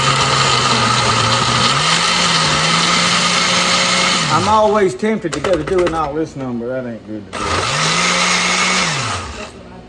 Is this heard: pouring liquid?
no